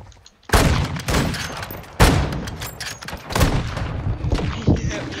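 Gunfire in the Modern Warfare 2 video game during sniping play: three loud, heavy shots a second or so apart, each booming and then trailing off, with a voice talking underneath.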